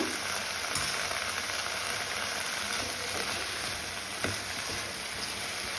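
Brinjal and drumstick pieces fry in tempering oil for a sambar, giving a continuous dense sizzle close to the pan with faint stirring scrapes and no voices.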